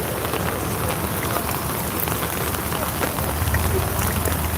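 Steady rain falls during an outdoor protest in Minerva, a dense even hiss of drops on surfaces running throughout with a faint crowd murmur beneath.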